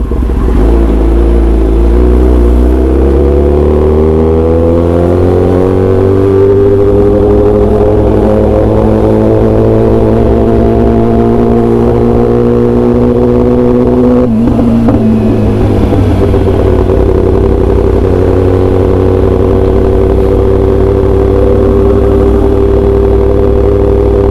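Kawasaki ZX-10R superbike lugging at low revs in third gear, a loud close engine drone whose pitch climbs slowly, dips near the middle and then rises again, with no talking.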